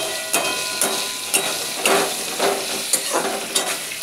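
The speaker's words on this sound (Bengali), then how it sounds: "এখন ভাজার পর্ব চলছে।" Drumstick (moringa) stems fry with turmeric in a pan, giving a steady close sizzle and hiss broken by regular scraping stirs roughly every half second, with no voices.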